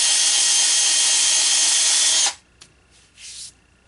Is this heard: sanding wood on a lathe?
yes